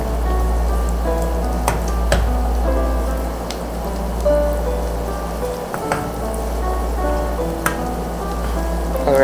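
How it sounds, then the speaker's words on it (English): Garlic frying in a pan gives a steady, close sizzle with small crackles and pops, heard alone over a low hum. "so hanggang sa ma-prito natin ng ating garlic guys"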